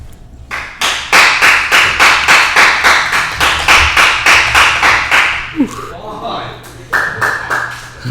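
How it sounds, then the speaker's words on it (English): Group of children clapping at an engineering outreach event, a steady run of sharp rhythmic claps that fades out, then resumes more softly alongside faint talk in the background. "Daniel, they were clapping. Your clap is just too loud."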